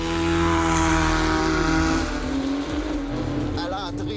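A Porsche 911 Turbo S runs on a race track with a loud, steady engine drone whose pitch slides as it shifts and changes speed, under a speaking voice.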